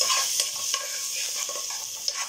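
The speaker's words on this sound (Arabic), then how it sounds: "ننزل يا حبايبي بالبهارات اللي هي الناشفه، بصوا اللي هي العودين القرفه ولا الرولي اهو، واللوم يا حبايبي اللي هي البهارات، هنقلبها ببعضها" Whole dry spices — cinnamon sticks, bay leaf and dried lime — stirred in a hot pan for kabsa, giving a soft steady sizzle with light scraping clicks from the spoon, close and alone with no talk.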